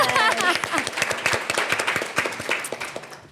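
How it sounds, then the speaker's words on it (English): A small group gives a round of applause during a podcast recording, clapping close and fairly loud at first and then thinning out into scattered claps while people talk and laugh over it. "Round of applause right there."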